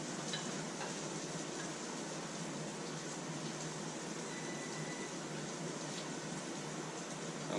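Bacon frying in a skillet gives off a steady, soft, hissing sizzle that stays even and fairly quiet from start to finish, with no voices.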